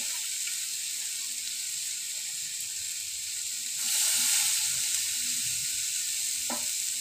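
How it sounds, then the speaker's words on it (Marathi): Cluster beans (guar pods) tipped into cooked masala in a wok, a constant bright sizzle that swells louder midway as they hit the oil, with a few scraping clinks. "त्यामध्ये टाकणार आहे मी गवारीची शेंग."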